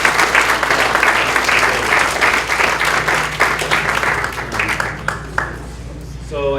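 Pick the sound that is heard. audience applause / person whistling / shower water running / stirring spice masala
audience applause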